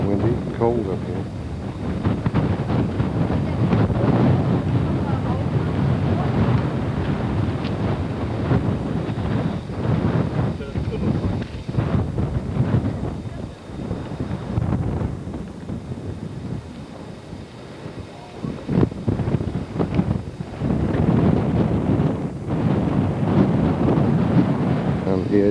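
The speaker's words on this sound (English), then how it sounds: "Windy and cold up here." Strong wind buffeting on the summit of Cadillac Mountain, Maine, in Acadia National Park on a cold May day, a continuous low roar and microphone rumble with gusts, while a person talks over it.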